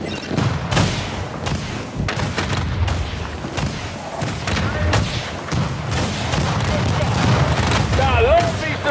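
Missiles firing in The Division video game, a dense barrage of booming launches and explosions layered with gunfire, continuous and loud throughout, with voices talking amid the chaos.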